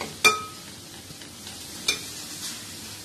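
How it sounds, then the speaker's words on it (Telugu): Capsicum fry with added salt is stirred in a pan, giving two sharp utensil scrapes against a faint continuous sizzle, otherwise quiet and close. "తగినంత సాల్ట్ యాడ్ చేసుకుని మళ్ళీ బాగా కలుపుకోవాలండి."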